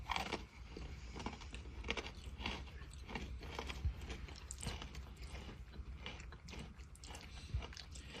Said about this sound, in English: When you eat these crazily crunchy pretzels with a perfectly umami mushroom flavor